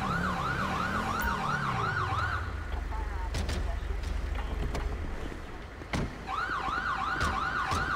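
An ambulance siren in GTA V wails in a repeating rising-and-falling cycle, loud and close, alongside a low engine rumble that fades, with a brief thump before the siren returns.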